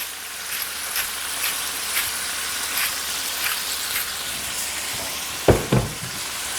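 Venison browns in a pot with a steady, close sizzle throughout, and a couple of sharp knocks from the pot near the end.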